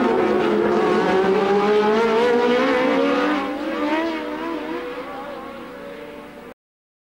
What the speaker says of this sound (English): DeAngelis trying to take Reutemann